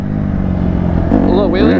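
A loud, straight-piped Honda CRF150RB dirt bike engine idles with a rough harmonic drone, then revs upward in rising bursts near the end; a voice speaks briefly over it.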